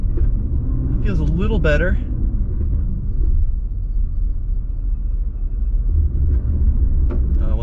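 A 2023 all-wheel-drive SUV in snow mode spins its wheels on rollers, giving a continuous low rumble and mechanical drone, with someone briefly speaking over it near the start.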